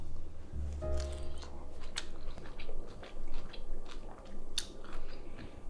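Sautéed cauliflower is chewed up close, with irregular crunchy bites and soft wet mastication that come and go over a quiet background.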